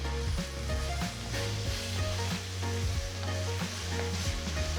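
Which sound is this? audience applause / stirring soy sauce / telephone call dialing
stirring soy sauce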